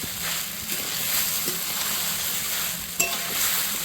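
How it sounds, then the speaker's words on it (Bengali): Fried paneer being stirred into sabudana pulao in a pan, with a steady close sizzle, soft scraping strokes and an occasional sharp clink of utensil on pan. "ভেজে রাখা পনিরটা আমি দিয়ে দিব দু একবার নাড়াচাড়া করেই নামিয়ে দেব"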